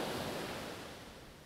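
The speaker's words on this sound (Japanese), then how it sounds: "波の音はいかがでしょうか。" Ocean waves recorded outdoors on a Shure MV88 iPhone microphone with a windjammer, heard as a steady, soft wash of surf noise with no voices.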